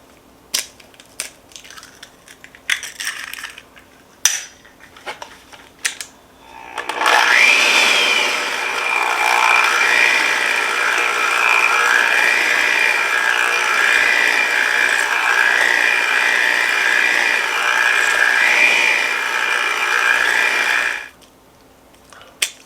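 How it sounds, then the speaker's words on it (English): Eggs being beaten into creamed butter and sugar for a poppy seed pound cake, a mixer running as a steady, loud whirring drone for about fourteen seconds after a few light clicks and knocks, with no talking. "Now we take our eggs and we add them one at a time and mix it up."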